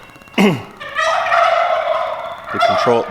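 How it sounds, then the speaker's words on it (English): A turkey's rapid gobble bursts out, followed by a sustained honking bird call, then another gobble near the end; close and loud. "Every time you make a noise, they want to gobble."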